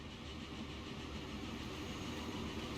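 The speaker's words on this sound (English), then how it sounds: "And now this passenger train leaves and another passenger train comes in" A passenger train in Transport Fever 2 rumbles steadily through a station, a continuous dense rolling roar with a faint metallic ring, constant and fairly loud throughout.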